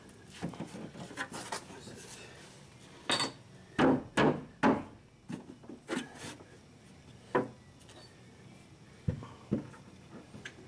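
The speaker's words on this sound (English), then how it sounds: "He's kind of moving it left to right with his hammer there" Irregular hammer taps knock against a pipe being set into a PVC basement shower drain, some in quick pairs, others spaced apart, close by with faint scraping between strikes.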